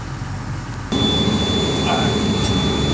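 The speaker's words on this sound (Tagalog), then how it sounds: "maingay at andar ng makina" A machine engine starts running partway through, jumping from low background noise to a loud, steady mechanical roar with a constant high whine on top that continues to the end.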